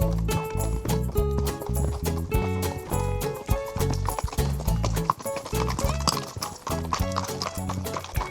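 Horse hooves clip-clopping along a path during a long-distance ride near Montalba-le-Château, a steady rhythmic series of hoof strikes close up, loud against a busy background with no talk.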